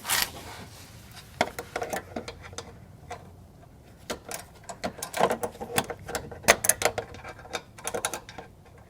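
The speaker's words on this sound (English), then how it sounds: "You could come underneath with a ratcheting box end wrench like this" A ratcheting box end wrench clicks on a fastener of a GM 6.5L diesel engine oil cooler line, in irregular bursts of sharp close ticks with pauses between, quiet background.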